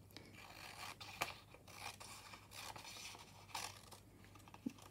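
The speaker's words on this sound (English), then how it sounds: "Yes, I still need to trim this page here." Scissors trimming the edge of a vintage French-style junk journal page: quiet scattered snips and paper rasps with a few sharper cuts, close and alone over a low steady hum.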